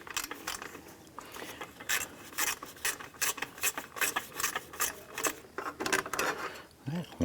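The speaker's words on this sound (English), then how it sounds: "We want to go ahead and remove our 10mm bolt right underneath here." Ratchet working a 10mm bolt loose on a bracket holding the radiator expansion tank of a 2004-2008 Acura TL: rapid, close clicking and grinding bursts in an irregular rhythm, with some low rustling underneath.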